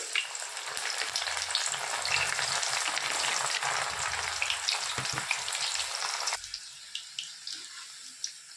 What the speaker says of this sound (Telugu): ఇప్పుడు నేను ఈ పప్పుని ఆయిల్లో ఫ్రై చేస్తున్నానండి